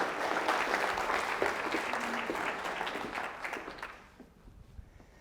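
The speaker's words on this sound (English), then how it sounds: "Let's give Rihanna a nice round of applause." Audience at an academic STEM conference applauding steadily for several seconds, a dense wash of clapping that stays loud, then thins and fades toward the end.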